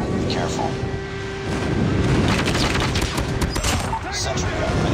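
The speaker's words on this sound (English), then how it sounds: "Enemy airstrike incoming." Airstrike explosions in a Call of Duty Mobile Domination match on the Firing Range map, heard as loud, rumbling blasts and crackling bursts that fill the clip from start to finish.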